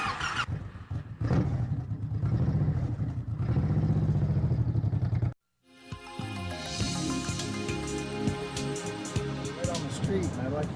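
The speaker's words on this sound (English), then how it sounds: "I'd like you to start the bike" A motorcycle engine cranks and fires during a driving test, followed by a steady idle; an earlier stretch of engine rumble cuts off briefly before the bike catches and keeps running.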